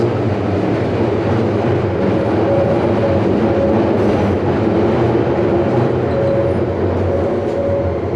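A loud, constant rumble of a London Underground train on the Waterloo and City line fills the space, with faint squealing tones rising now and then as it brakes. No voices are heard.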